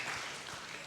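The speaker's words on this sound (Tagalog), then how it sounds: "Pwede bang malakas na palakpak sa ating Panginoon?" A church congregation gives loud applause to the Lord during a sermon, a dense, steady wash of many hands clapping together that fills the whole short moment.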